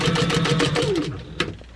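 A sewing machine stitching a carrying case strap, a quick even run of needle taps that slows and stops after about a second, followed by a faint click.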